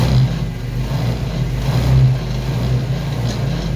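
A Yerfdog Scout compact utility vehicle's small engine runs on cold choke, a steady loud low rumble with a slight rise in revs midway, close by and without talk.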